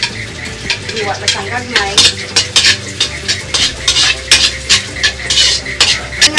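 Garlic sizzling in a small amount of cooking oil while a metal utensil stirs it in the pan, with rhythmic scraping clinks over a constant crackling fry and a few soft words spoken.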